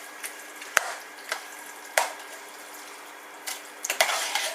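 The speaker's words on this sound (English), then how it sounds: "so I'm just going to stir that in" A spoon stirs spaghetti bolognese in a pot on the stove, making sparse, sharp clacks and scrapes against the pot over a faint bubbling background, close and fairly quiet.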